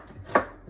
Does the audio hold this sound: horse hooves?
no